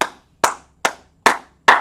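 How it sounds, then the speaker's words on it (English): Five sharp, evenly spaced hand claps ring out close by with short decays, a deliberate slow rhythm from a class audience rather than continuous applause. "Kazimar, clap it up. Simitra Bills, clap it up."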